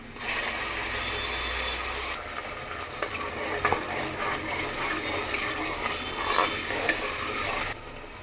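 Ground masala is tipped into a pan of frying chicken and stirred, a steady close sizzle with intermittent scraping and clattering from the spoon. A brief rush of water is also heard, and no one speaks.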